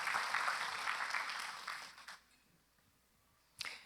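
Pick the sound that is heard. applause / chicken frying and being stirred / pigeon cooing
applause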